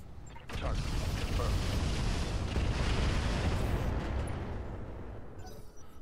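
A missile salvo fired in the mech video game Roguetech, a loud sustained roar of rumbling launches and blasts that swells quickly, holds for several seconds and then tapers off.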